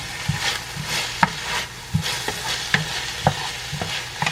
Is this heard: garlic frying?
yes